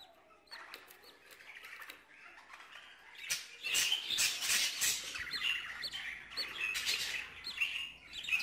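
Budgerigars in breeding cages chirp and chatter, sparse tweets at first building into busy overlapping calls and squeaks, fairly close, with brief rustles of movement.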